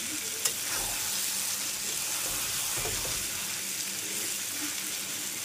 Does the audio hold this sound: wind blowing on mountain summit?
no